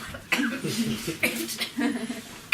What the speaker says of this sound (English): God, it made me cough.